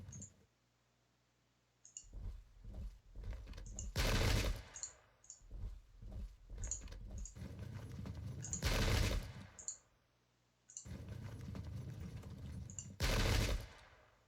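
Musket volleys crash in loud, broad bursts in the Pike and Shot battle game, repeating every few seconds between quieter crackling shots and clicks.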